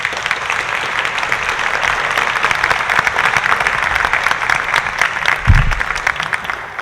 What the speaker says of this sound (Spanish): Para todos ellos les pido un fuerte aplauso.